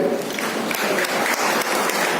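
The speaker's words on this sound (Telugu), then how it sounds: "మనందరినీ ఉంచినందుకు దేవుడికి స్తోత్రం చెల్లించి చప్పట్లు కొట్టండి" A church congregation at a Sunday service applauds together, brisk, steady clapping filling the room for a couple of seconds.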